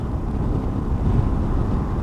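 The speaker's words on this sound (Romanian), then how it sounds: "mie în cască acum îmi bate vântul destul de tare lateral din stânga" Strong wind buffets a helmet-mounted microphone on a Honda TransALP 650 motorcycle ride, a loud, continuous low roaring rumble filling the whole moment with no voice heard.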